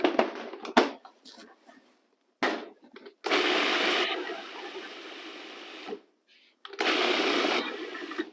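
A food processor blends pesto in a few loud, close whirring runs that start and stop abruptly, with brief quieter gaps and some clatter between bursts.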